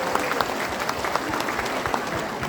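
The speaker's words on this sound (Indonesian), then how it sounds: "Tepuk tangan dong yang mulia buat beliau." An audience at a company Halal Bihalal gathering bursts into dense, even applause, a steady wash of many hands clapping close by, with scattered sharper claps throughout.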